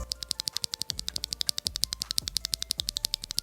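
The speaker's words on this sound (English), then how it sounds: "This is the sound of one of the switches when it's lubed." A lubed Glorious Holy Panda tactile mechanical keyboard switch pressed repeatedly in a fast, steady rhythm, each stroke a crisp, close, muted clack with a soft thock beneath.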